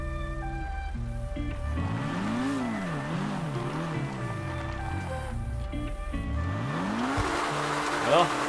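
A modified Porsche 718 Cayman in GTA5 revs hard on a race track, engine pitch climbing and dropping through repeated gear shifts, loud and close, with faint tire squeal near the end.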